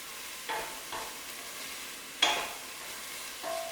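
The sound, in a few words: stirring carrots and coriander in pan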